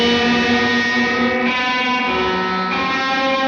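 Sustained electric guitar chords ringing out with a washy, splashy reverb tail, loud and steady with no voices.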